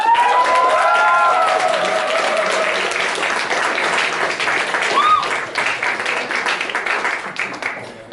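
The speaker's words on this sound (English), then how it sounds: "please give huge applause for Rastio" Applause from an audience at a startup networking event in Bratislava, sustained and fairly loud at first, then thinning into scattered claps toward the end, with faint voices mixed in.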